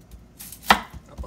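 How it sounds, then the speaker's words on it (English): An onion chopped on a cutting board, a few soft knife taps with one sharper, louder strike in the middle, close and brief, no voices. "Now I'm going to chop an onion here."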